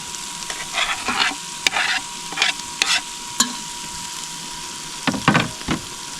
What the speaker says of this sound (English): we will fry it now for about 5 minutes